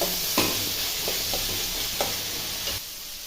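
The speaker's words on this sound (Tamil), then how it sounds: "பச்சை மிளகாய், இப்போ கல் போட்டுக்கலாம். நல்லா வதக்கலாம்." Green chillies and onions sautéing in a pan for poori kurma, a steady close sizzle with a few soft stirring scrapes and clicks, ending abruptly.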